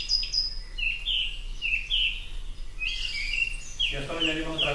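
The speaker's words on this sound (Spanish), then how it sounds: "si cantan dos zorzales, igual que antes con los ruiseñores, ya es una pelea, ya es un límite dentro del bosque" Two male thrushes sing in a forest, trading bright repeated phrases from moderate distance, the second bird joining louder near the end over a faint low background hum.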